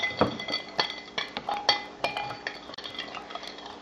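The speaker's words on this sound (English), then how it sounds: "mix that in" Metal spoon clinks and scrapes against a bowl while stirring a tablespoon of olive oil into a homemade hair protein treatment mixture, a quick irregular run of close, light taps and clinks with no talk.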